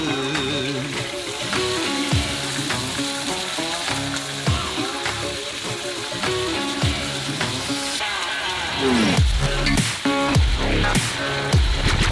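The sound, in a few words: marinated maple glazed tilapia frying in a pan on the stove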